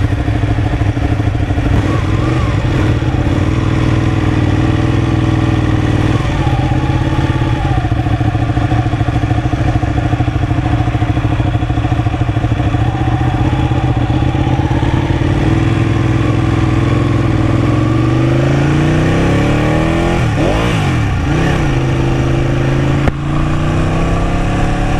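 Ducati Panigale 899 sport motorcycle engine droning steadily through a ride, a continuous loud mid-pitched hum with wind noise and rising pitch sweeps near the end as the revs change.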